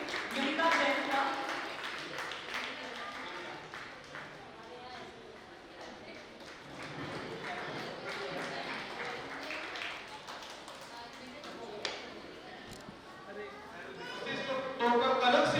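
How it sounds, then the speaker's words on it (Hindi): An audience claps steadily to welcome someone speaker at a youth speech competition in a Jain temple hall in Mahesh Nagar. The dense, continuous applause swells toward the end, and talk runs underneath. "जोरदार तालियों से अभिवादन करेंगे युविका जैन का"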